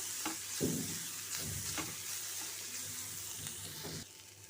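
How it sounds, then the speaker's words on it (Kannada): A spoon stirs palya, a vegetable dish, through freshly added grated coconut in a pan, giving a steady soft scraping and sizzling texture with a few sharper scrapes, close by and without any talking. "ಕಾಯಿ ತುರಿ ಹಾಕಿದ್ಮೇಲೆ ಚೆನ್ನಾಗಿ ಬೆರೆಸ್ಬೇಕು"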